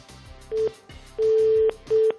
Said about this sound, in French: j'appelle un portable, c'est impossible, Jean-Paul.